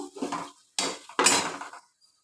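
Chilli powder masala being sautéed in a pan for an oil-based eggplant curry: three short bursts of spatula scraping and stirring against the pan, close and fairly loud, with no talking.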